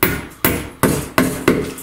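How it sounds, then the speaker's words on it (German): Five heavy hammer blows driving hook nails during a bathroom renovation after water damage, each a sharp loud strike with a brief ring, evenly spaced about every third of a second, close up. "Einfach reinstecken, ich habe jetzt leider einen dicken Hammer hier."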